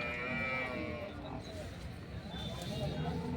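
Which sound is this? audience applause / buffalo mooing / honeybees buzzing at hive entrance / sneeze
buffalo mooing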